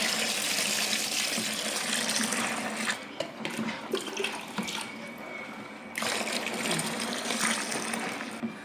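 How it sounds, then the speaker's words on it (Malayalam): Two litres of water pour steadily into a container for homemade dish wash, a continuous rushing gush that dips briefly midway, then resumes strongly. "2 ലിറ്റർ വീണ്ടും വെള്ളം എടുക്കുക"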